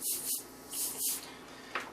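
Airbrush spraying paint in short, light bursts, with about four soft hissing puffs separated by brief pauses, close and fairly quiet, plus a small tap near the end.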